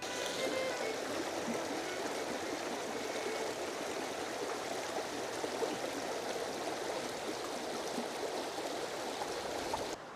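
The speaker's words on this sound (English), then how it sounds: "I'm just down at the river here" Continuous rushing water from a nearby river in Northumberland, a steady broadband flow with no pauses or voices.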